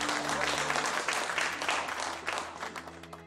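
A group of people applauds in a steady, dense burst of clapping that stays loud throughout and eases slightly toward the end.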